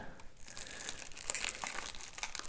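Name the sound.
opening a parcel containing mosquito screen parts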